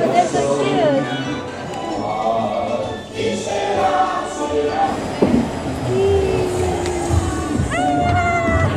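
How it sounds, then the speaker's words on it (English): Train ride at Beto Carrero World amusement park, a steady rumbling rolling drone with squeals and clanks as it moves, while people talk over it. "But here in Beto Carrero World, this train ride was really cool."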